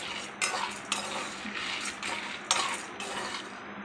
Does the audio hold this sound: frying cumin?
yes